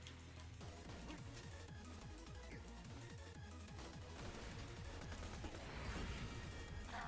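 A Vladoff grenade going off in Borderlands, heard within a dense, continuous barrage of game explosions and rapid gunfire, loud and busy throughout with a heavier burst near the end.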